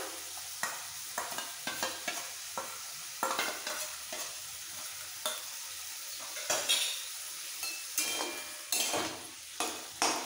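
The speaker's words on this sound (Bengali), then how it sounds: "এবার একসাথে কষিয়ে নেব। মশলার সাথে আলু ঝিঙে ভালো করে কষানো হয়ে গেছে" Potatoes and ridge gourd with ground cumin, coriander and green chilli paste are stir-fried in a pan, with repeated scraping spatula strokes and clinks against the metal over a soft sizzle, close and rhythmic.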